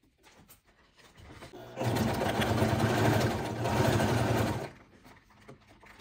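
A sewing machine with a Teflon presser foot stitches synthetic material, a steady, loud mechanical whir running for about three seconds and then stopping, with quiet handling noises before and after.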